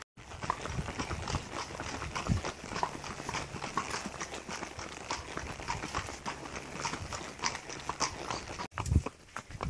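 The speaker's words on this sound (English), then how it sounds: "we all went out on our horses for a hack out." Several horses out on a countryside hack clip-clop at a walk in a busy, overlapping rhythm of hoofbeats, fairly quiet with outdoor noise around them.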